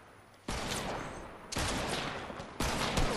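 Three sharp bursts of rapid gunfire in a battle royale duos shooter, each volley starting abruptly and rattling on for about a second, loud and close with near silence before the first.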